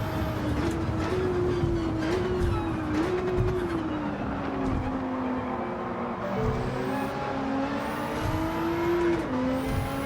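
Race car lapping the Tokyo circuit in a racing video game, a loud, steady engine whine shifting pitch through gear changes and corners, close and continuous with faint tire squeal.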